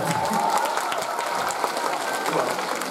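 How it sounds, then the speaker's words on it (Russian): An audience applauds at a live concert of cover songs, a dense, steady patter of many hands filling the hall without letup. "Тут должны быть были аплодисменты"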